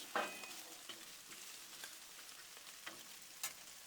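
Tortellini frying in leftover sausage grease on a flat griddle top gives a faint, low sizzle, broken by a few soft stirring scrapes and light taps, with no talking.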